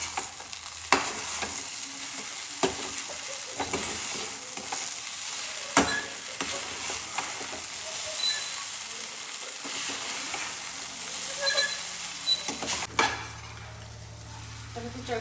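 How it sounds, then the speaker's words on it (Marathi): Khichdi sautéing in a new kadai, a steady close sizzle with scraping spoon strokes against the pan throughout, louder clatters now and then, and a low hum entering near the end. "तर खिचडी ना आता मस्त अशी परतून झाली"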